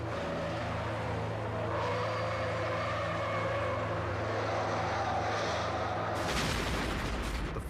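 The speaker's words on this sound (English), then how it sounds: "It was the car that blew up first." A car bursting into flames from spilled petrol beside a burning tanker in New Zealand, heard as a dense, loud roaring rush that swells and then breaks into a harsh, broadband blast near the end.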